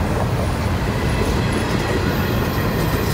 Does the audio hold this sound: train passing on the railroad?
yes